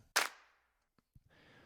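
The third layer of a drum clap, a clap sample used only on the chorus in Ableton; one sharp, bright hit with a short tail, then faint ticks and a soft hiss.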